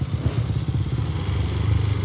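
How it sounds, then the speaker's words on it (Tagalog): Motorcycles pass close by near the collapsed Callawa Bridge 2 in Davao City, their loud engine drone steady and rumbling for the whole stretch. "Mga motor."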